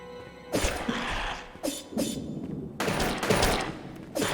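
Gunfire from the video game Hunt the Night, heard as three separate loud, sharp blasts with ringing decay between them and no speech over them.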